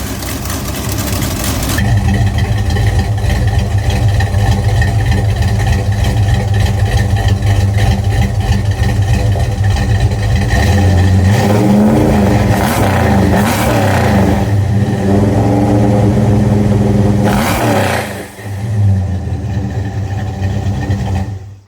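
A rebuilt 1971 Dodge Demon engine runs loud and close, a steady rough idle with repeated revs rising and falling in the middle, then a brief dip before it settles back to idling and cuts off at the end.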